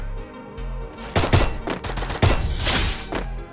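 Rapid bursts of XM8 rifle fire in a video game firefight, sharp repeated shots in quick clusters over a low background hum, close and loud.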